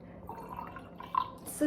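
Water is poured into a drinking glass, giving a trickling, dripping fill with a rising splash near the end, close and moderately loud, with no speech.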